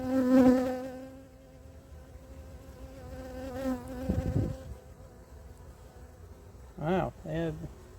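Honeybees buzz steadily around an open hive during a colony inspection, a close, continuous drone with individual bees swelling loudly past near the start and again toward the end.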